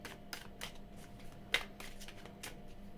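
Quiet, crisp riffling and soft slaps of tarot cards being shuffled, a run of short bursts repeating in quick succession.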